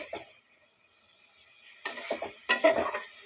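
Masala for a Sylheti beef curry with shatkora is stir-fried over high heat. A quiet stretch gives way to several close bursts of spatula scraping and sizzling, with no talk.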